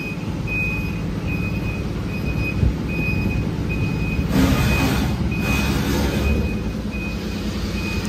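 A truck reverses at a newly opened ready-mix concrete plant, its backup beeper sounding in a steady, evenly spaced series over constant engine rumble, with a brief burst of louder noise midway.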